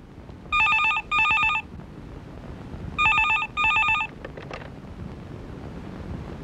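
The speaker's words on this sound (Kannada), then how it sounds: "ಸಾಹೇಬ್ರಿಗೆ ಹೋಗಿ ಫೋನ್ ಮಾಡೋಣ." A telephone in a Kannada film rings with a bright electronic double ring, heard twice in a steady pattern over faint background noise, with no voices.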